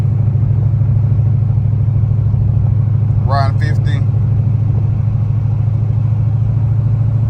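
A supercharged Ford Mustang with an open valved exhaust drones steadily and loudly while driving, with a constant low rumble all the way through and a brief voice partway in.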